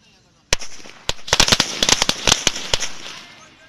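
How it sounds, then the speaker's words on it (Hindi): A string of Diwali firecrackers is lit and bursts in a rapid, irregular chain of sharp, loud cracks and pops, close by, for about three seconds before tapering off. "पहले इस लड़ी को जला के देखते हैं कैसे जलती है।"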